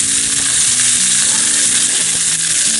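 Osso buco browns in a Dutch oven over a camp stove behind a heat shield at a mountain campsite, giving a loud, steady, close sizzle and frying hiss with no speech.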